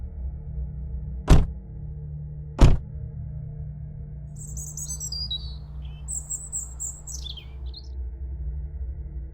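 Small birds chirp in a tree outside a grandmother's house, quick high twittering calls arriving in a few short bursts, preceded by two sharp thuds like car doors shutting over a low steady hum.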